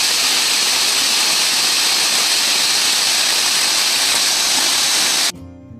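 Siddha Ramappa Kolanu waterfall at Srisailam pours down in a loud, close, broadband rush of falling water that stays constant for about five seconds, then stops suddenly.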